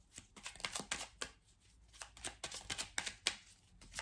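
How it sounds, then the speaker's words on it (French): Oracle cards being shuffled and drawn during a French romance-themed tarot reading, giving a steady run of close, crisp riffling and flicking bursts over about four seconds, with no voices. "on va clôturer ce tirage sentimental avec le message du petit oracle"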